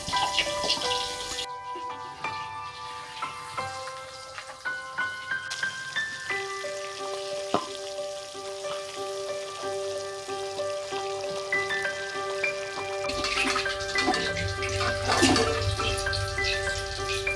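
Pabda fish frying under a lid in a covered pan, giving a steady, rain-like hiss that runs throughout beneath sustained tonal music.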